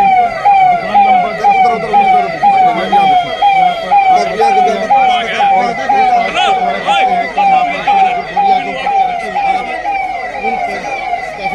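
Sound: fire brigade siren at grain market fire

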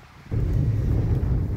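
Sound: wind

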